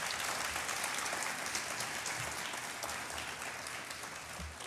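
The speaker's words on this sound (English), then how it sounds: "Let's give them a big round of applause." Audience applause at a university economics and business event launching a PepsiCo partnership, a steady dense wash of clapping that holds throughout, slightly easing toward the end.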